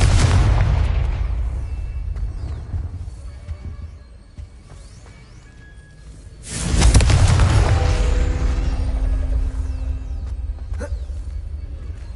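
A Confringo blasting spell explodes in a Harry Potter video game, with a heavy booming blast that fades over several seconds and is followed by a second loud explosion with a long rumbling tail.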